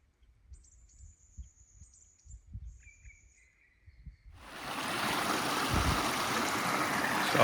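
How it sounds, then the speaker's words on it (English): Water of Sixth Creek rushing steadily on a hillside walking trail, a loud broadband wash that starts abruptly partway through after quiet footsteps and distant bird calls. "I think this is 6th Creek."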